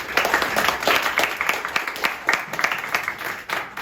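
An audience of high school students applauds to welcome a literary critic to a lecture, a dense, continuous round of clapping filling the room without voices.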